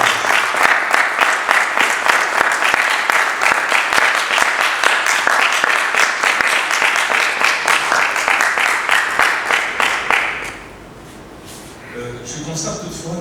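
An audience at a thesis defence claps loudly and steadily for about ten seconds, a dense, close patter of many hands, then it stops abruptly and a voice begins speaking.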